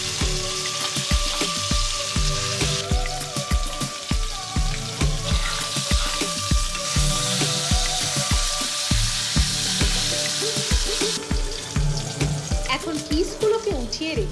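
Hilsa fish tails frying crisp in a pan, a loud continuous sizzle and crackle close by with rhythmic low thumps running underneath, and no talking over it.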